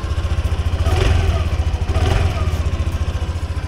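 Yamaha Aerox 155cc scooter engine idling with a steady, rapid pulsing thrum, close and fairly loud, swelling twice briefly as if lightly revved before settling back to idle.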